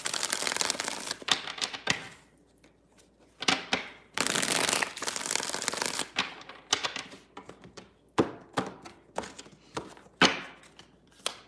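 Tarot cards being shuffled repeatedly, close riffling and flicking bursts separated by short pauses, with a few soft taps in between.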